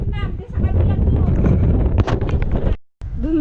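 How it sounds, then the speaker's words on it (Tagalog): Strong gusty wind buffets the microphone at a scenic hillside spot on a solo bike ride between Lucena and Cavinti, a loud rumbling roar with a brief dropout, and people talk over it. "pero grabe, sobrang hangin"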